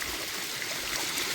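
A cold mountain stream near Suryanelli, on an off-road route to a tea factory, rushes close by in a continuous, loud, even wash of water with no talking.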